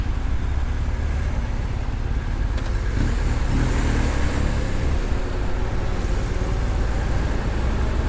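Congested road traffic at an access road with many trucks, a steady, loud low rumble of idling and slowly moving engines heard up close from a motorcycle, with occasional passing vehicle swells.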